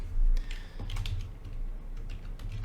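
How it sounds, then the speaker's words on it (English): Close computer keyboard typing while card names from a 2021 Leaf Draft football blaster box are entered: a quick, irregular run of light plastic key clicks, no voices. "So let me start typing these guys in."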